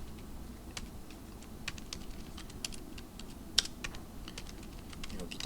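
Code is typed on a computer keyboard in scattered soft clicks and taps, irregular keystrokes at a quiet, close level with one sharper key strike.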